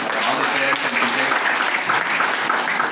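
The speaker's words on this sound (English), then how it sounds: "A big round of applause for all of you, all the parents and teachers" An audience at a school Vedic mathematics prize distribution applauds parents and teachers, dense continuous clapping filling the room evenly from start to finish.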